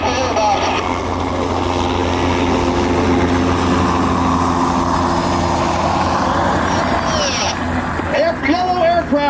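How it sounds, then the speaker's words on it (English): An aircraft flies past at the Hangar 24 AirFest, its loud engine drone filling the air with a rising and falling pitch. Voices and radio chatter run over it throughout. "John, the aircraft just went by."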